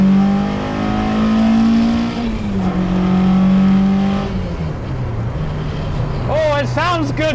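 Mazda MX5 engine revving hard on a dual carriageway, a loud, rising drone that drops at a missed gear change, then climbs again before a whistling, warbling sound near the end.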